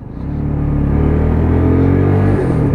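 A UM Freedom 125cc custom motorcycle on a test ride, its engine droning with a steady low throbbing rumble that rises in pitch slightly as it pulls, close and continuous with no talk.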